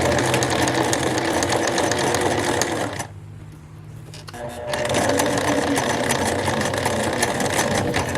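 Sewing machine stitching a narrow hem on a formal dress, a loud close mechanical whir that pauses briefly midway, then resumes for a back stitch at the end, with no talking.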